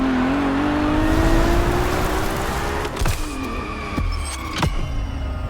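Ferrari supercar engine in the racing game Motorfest, a loud sustained roar that climbs steadily in pitch through a gear, then shifts down with a few sharp clicks and a dip in tone.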